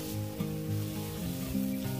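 Vegetables hit hot oil in a wok over high heat for a Hong Kong-style stir-fry, giving a steady close sizzle over a humming, tonal background, with no talking.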